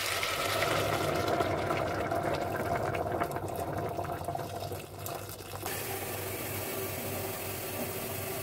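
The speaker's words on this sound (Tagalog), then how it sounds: "Mag-add na tayo ng mainit na tubig." Steady rushing pour of hot water into a pot of salmon soup, a continuous liquid gush that shifts tone partway through as the level fills.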